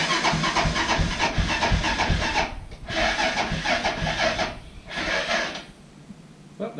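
A Honda 400ex ATV with electrical trouble cranks over in rough, rhythmic bursts, stopping and starting again several times, loud and close, with no clean catch.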